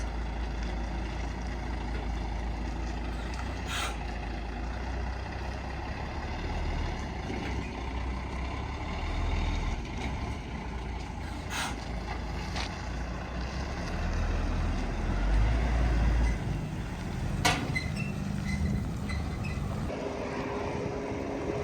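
A truck hauling Claas Dominator combine harvesters pulls away, a low engine rumble droning steadily with occasional clanks and a slight swell toward the end.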